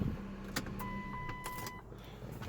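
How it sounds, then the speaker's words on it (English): A Dodge Avenger, one of the 2007–2014 models, runs right after a battery change: a low steady engine hum sits under brief mechanical clicks and a thin electronic tone, close by, with no talk. "Car turned on right away."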